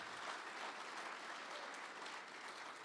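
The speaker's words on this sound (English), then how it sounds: "That's right, you can clap." At a football signing day event, an audience claps steadily, a dense even patter of many hands heard at a fair distance and held throughout.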